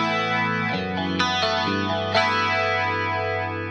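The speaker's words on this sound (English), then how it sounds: "I can totally shut off my dry signal and just hear the chorus guitar with the reverb and delay." An electric guitar plays through chorus, reverb and delay with the dry signal removed, giving shimmering, wavering sustained chords with a few new strums and long washy tails, alone without talk.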